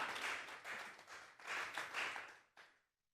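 A church congregation at a Sunday service breaks into applause, a dense wash of many hands clapping in waves that swell and fade, then stop.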